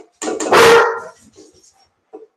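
Close, loud barking from house dogs reacting to a dog walked down the street: a couple of sharp barks building into a big bark, then fading yips and a last short bark.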